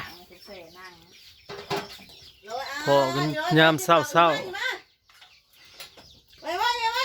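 A chicken clucks and squawks in bursts, loud and close, mixed with a person speaking at moments.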